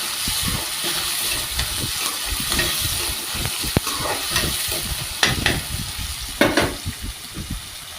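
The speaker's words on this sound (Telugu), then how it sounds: "ఇంకొంచెం వేగనిచ్చాక కరివేపాకు వేసుకొని సో మంచిగా ఫ్రై చేద్దాం" Beetroot pieces fry with curry leaves in a pan at home. A steady sizzle runs throughout, broken by scraping stirs and a few louder crackling spits near the end.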